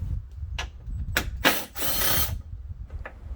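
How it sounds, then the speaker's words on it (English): A 10mm socket wrench removes the plastic and metal nuts on the hood cowl of a 2013 Mini. Several short, close ratcheting bursts come in quick succession, including one longer clicking run, with quiet gaps between them. "you will use a 10mm socket to remove one plastic nut on the front under the hood and one metal nut on the back"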